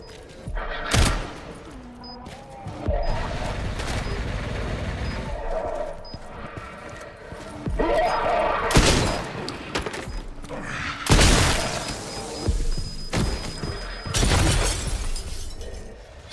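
In Resident Evil Requiem, a grenade bursts and gunfire cracks out in heavy, loud blasts with shattering debris, separated by short stretches of quieter game noise.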